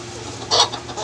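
A brief cluck from a chicken rises over a low background hum, close and fairly clear.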